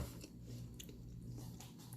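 Close, quiet chewing of Pops cereal that has soaked in milk, soft repeated bites with a faint crunch and wet squish, no talking.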